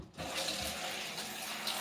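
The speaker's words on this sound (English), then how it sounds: "Add some more water in this top section" Water runs steadily from a tap or sprayer onto hair during washing, a continuous close hiss and splash that stays even throughout, with no talking.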